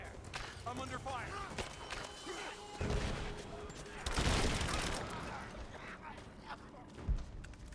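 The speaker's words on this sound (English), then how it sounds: "Covering fire! I'm under fire!" Rise of the Tomb Raider combat: a rapid volley of gunshots with sharp cracks and bursts, plus a few crashing impacts, and voices can be heard under the firing.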